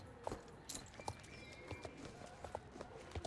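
Horse hooves clip-clopping at a quick, steady gallop in a video game, a light, regular pattern of hoofbeats at moderate distance with no voices.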